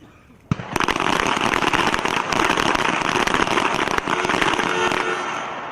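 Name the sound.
pistol shots fired in a team pistol match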